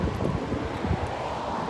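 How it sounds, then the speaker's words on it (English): Strong wind in Portland, Oregon, during wildfire season, a brief steady gust buffeting the microphone with faint rustling. "it's so windy in Portland"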